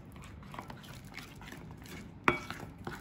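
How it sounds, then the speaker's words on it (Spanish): Elmer's confetti slime being mixed in a container with a utensil: soft, quiet, sticky stirring sounds, then one sharp clink of the tool against the container near the end, with no talk. "ahora dice que hay que mezclar"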